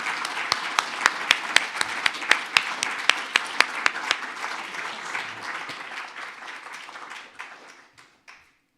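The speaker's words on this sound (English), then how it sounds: "So a round of applause for Mike" An audience applauds the outgoing chair at a UFAW and HSA science update evening, a steady wash of clapping with sharp individual claps standing out, tapering off and dying away over the last couple of seconds.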